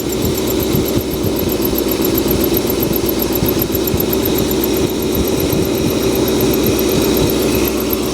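An old Cadillac engine, run again after sitting for over 30 years, idles steadily and loudly up close with a weak cylinder, its uneven rumble carrying a faint high whine throughout.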